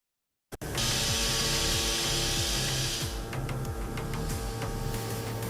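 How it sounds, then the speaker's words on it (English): A loud, continuous machining whine with a steady hiss, pulsing in a regular rhythm as a flat drill bores through S45C steel. "here we have a demonstration video for the flat drill."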